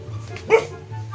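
A single short dog bark or yip sounds close by over a low steady hum.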